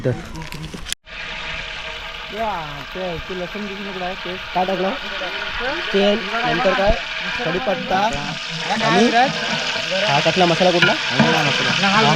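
Ginger-garlic paste fries in a pan over a wood-fired stove for a chicken party, a loud, continuous sizzle with stirring scrapes while someone talks over it throughout.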